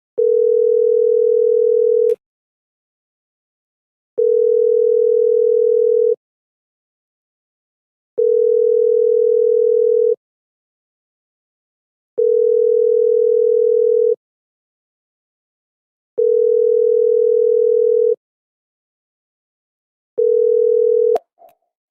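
A telephone line tone after dialing a number sounds as a steady single-pitched beep, repeating in roughly two-second bursts separated by two-second silences, six times in all, clear and close.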